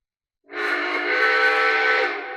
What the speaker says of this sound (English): Whistle's nice and loud.